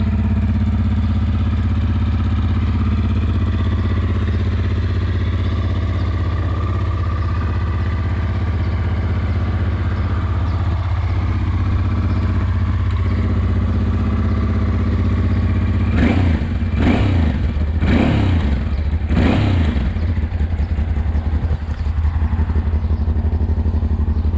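A motorcycle engine running on choke idles steadily and loud throughout, with a few brief revving bursts late on.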